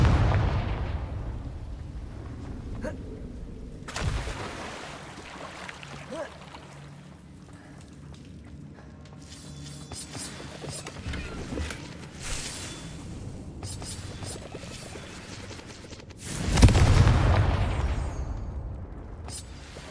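In the Hogwarts Legacy video game, the Confringo spell sets off deep booming explosions, a big one at the start and a louder blast near the end, over a rumbling game soundscape with a voice speaking at times.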